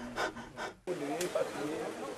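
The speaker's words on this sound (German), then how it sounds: "Da muss man richtig nach Luft schnappen." Deep in a Congolese gold mine, a miner pants and gasps for breath in quick, heavy bursts close to the microphone, followed by scraping and rubbing noises and low muffled talk.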